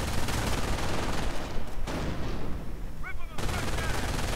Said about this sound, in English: Mines going off